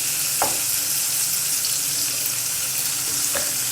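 Chopped onions and tomatoes sizzle loudly in a pan, a dense continuous hiss close to the listener with a couple of brief spatters breaking through, and no voices.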